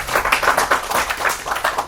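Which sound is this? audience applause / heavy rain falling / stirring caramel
audience applause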